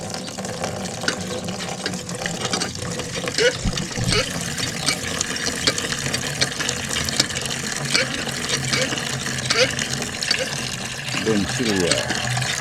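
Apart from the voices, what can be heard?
hand water pump pumping water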